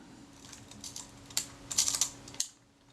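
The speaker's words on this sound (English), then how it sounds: "that made a weak click" Mechanism of a Retina IIIS camera being worked by hand, a quick cluster of faint, close, dry clicks ending abruptly.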